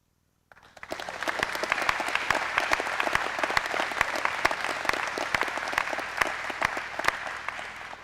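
A school awards ceremony audience breaks into applause after a list of student athletes' names is read, starting abruptly and holding steady with distinct individual claps standing out over a dense, moderately loud wash.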